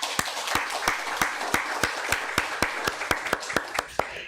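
Congregation members in a church clap in a regular, rhythmic beat, about three claps per second, each sharp and distinct over a soft wash of scattered clapping.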